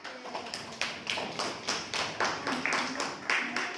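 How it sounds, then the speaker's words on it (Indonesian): A classroom group claps for a presenting group in a science lesson, with a quick, steady run of hand claps from several people sounding close and lively for a few seconds. "aplaus dulu buat kelompok 1"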